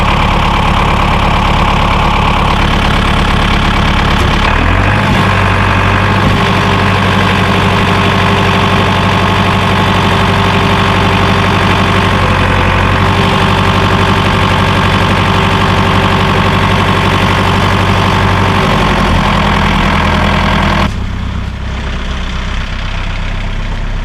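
A tractor engine runs loud and close under load while lowering a heavy Sibley camelback drill press, a steady low droning rumble with knocking vibration, its pitch and load shifting near five seconds and easing slightly toward the end.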